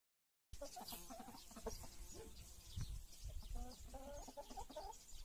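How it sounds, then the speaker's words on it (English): A hen clucks in a phonics song, with several close rhythmic clucks and rooster-like calls over a faint farmyard background after a brief silent start. "H for hen."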